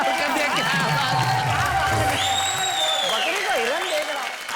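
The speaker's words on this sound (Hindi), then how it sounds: "एक बार जोरदार तालियां भाई, कमाल कर दिया।" Clapping from a studio audience on a Hindi TV singing-contest show, steady and fairly loud throughout, with a tonal hum and other sounds layered over the applause.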